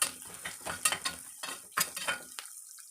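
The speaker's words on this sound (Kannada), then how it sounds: "ನೀಟಾಗಿ ಈರುಳ್ಳಿ ಹಸಿ ಸ್ಮೆಲ್ ಹೋಗೋವರೆಗೂ ನೀಟಾಗಿ ಅದನ್ನು ಬಡಿಸ್ಕೋಬೇಕು." Onions sauté in a pan over a medium flame: a close sizzle is broken by several sharp scraping stir strokes in an uneven rhythm, with no talking.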